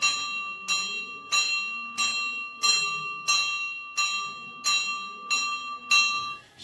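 A single bell is struck by hand in a steady rhythm, about nine clear metallic strikes spaced under a second apart. Each one rings out and overlaps slightly with the next, close and fairly loud, with faint background sound beneath.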